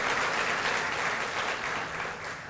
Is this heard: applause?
yes